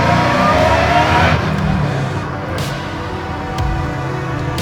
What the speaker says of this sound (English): we're out driving our 55 Chevy, Art Morrison chassis, LS9, supercharged, 6-speed manual transmission.